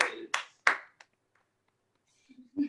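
A few sharp hand claps ring out close and distinct at a small online comedy show, then fall silent before a voice starts up.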